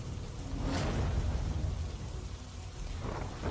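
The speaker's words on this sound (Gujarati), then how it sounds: "આસપાસના ઘણા વિસ્તારોમાં પણ વરસાદ જોવા મળી રહ્યો છે।" Heavy rain pours steadily in Surat during a downpour, a dense continuous hiss with a low rumbling undertone throughout, no voices.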